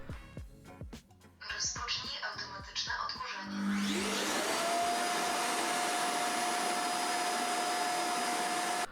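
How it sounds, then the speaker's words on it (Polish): Some clattering and bumping gives way to a loud, sustained suction roar as an EZVIZ RE5 Plus robot vacuum's station empties the dust bin, holding a steady whine throughout. "Znacznie głośniejsze jest natomiast opróżnianie pojemnika na brud."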